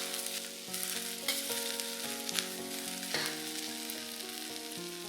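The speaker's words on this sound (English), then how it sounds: "Stir fry all this for a bit." Shredded vegetables, black fungus and dried lily flowers stir-fry in a hot pan with a steady, loud sizzle and scraping stirs, while tonal background music plays steadily underneath.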